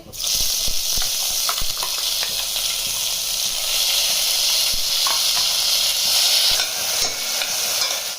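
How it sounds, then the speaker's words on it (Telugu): Ground mustard seed and cumin paste frying in hot oil, giving a steady bright sizzle and hiss throughout, with occasional stirring clicks and scrapes close by. "ఆయిల్ హీటెక్కాక ఆవాలు, జీలకర్ర మనం మిక్సీ పట్టి పెట్టుకున్నాం కదా, ఈ పేస్ట్ వేసేసుకోవాలి"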